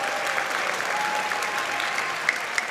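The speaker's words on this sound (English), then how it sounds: "How about a round of applause for all of our performers tonight?" Steady applause from a concert audience at a school winter concert in a performing arts center, a dense continuous wash of many hands clapping at even loudness throughout, with no voices standing out.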